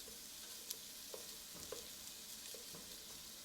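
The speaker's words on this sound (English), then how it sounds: "I'm going to stir it around a little bit. On a low flame, we're going to let this get soft." Onions softening in a pan over a low flame, giving a soft, constant sizzle, with a spoon stirring them in a few light, irregular scrapes and taps; quiet and close, no voices.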